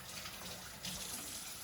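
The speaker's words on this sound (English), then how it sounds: "Again, turning on the water" A kitchen sink faucet runs steadily, a close, constant hiss and splash of water pouring into the basin with no talking.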